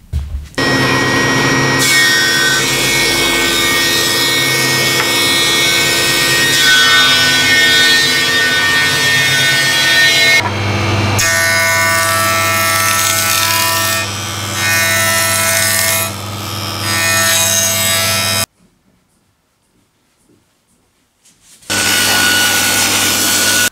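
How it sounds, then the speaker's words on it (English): A saw cuts treated pine boards to length in long continuous passes, loud and close with a steady rasping drone, pausing briefly partway, then going silent for a few seconds before cutting resumes. "I need to cut these to length now"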